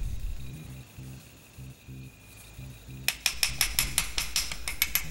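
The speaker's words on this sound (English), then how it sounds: "I get it started with the brass hammer and get it seated through the hole" Brass hammer tapping a pin into the receiver of a Western Field pump shotgun: faint taps at first, then a quick run of about a dozen sharp metallic strikes, close and alone over a low hum.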